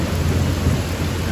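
A thunderstorm with pouring rain: a dense, loud downpour hissing steadily, with a low thunder rumble underneath, no voices.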